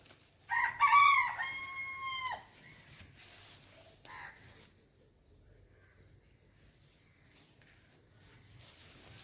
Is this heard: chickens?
yes